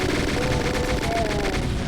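Rapid, continuous chaingun fire from Doom 2 rattles steadily over about two seconds, dense repeated shots mixed with game sound and no speech.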